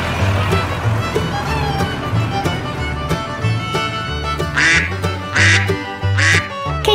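A duck quacking in a series of loud, close, nasal quacks with a rhythmic pulse, ending in three strong calls, played alone.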